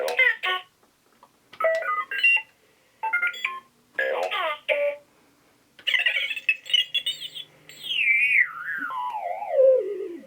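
A Star Wars Galaxy's Edge R-unit toy droid gives a string of chirpy electronic beeps and warbles in short bursts, ending in a long descending whistle, close and clear with no talking.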